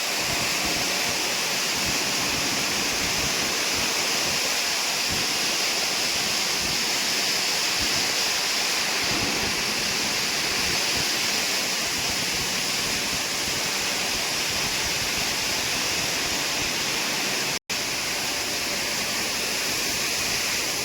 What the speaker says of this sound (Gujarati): પાણી જાય છે ઉપર મશીનની અંદર.